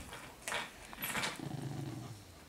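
Young cavapoo puppies and an older dog make low growls and rumbling grumbles at fairly close range, with scuffling noises between them and no speech.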